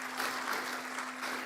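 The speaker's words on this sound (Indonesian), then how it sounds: "kita berikan tepuk tangan yang meriah beliau" Audience at a doctoral examination at Universitas Indonesia applauding for a professor, a steady, dense clapping crowd with a faint electrical hum beneath.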